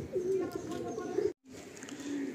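Pigeons coo in a loft, with low, throaty calls repeating close by through the whole stretch, broken by a brief gap of near silence.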